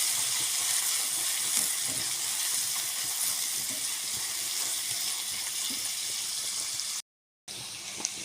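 Onion sizzles in a pan for okra with meat, a soft, steady hiss with faint crackles, close and unbroken until a brief cut near the end.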